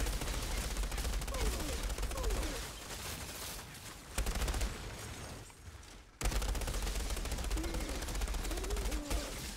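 Submachine gun fire in the shooter game Outriders, rapid continuous bursts of automatic shots, loud and close, broken by brief pauses, with faint voices in the background.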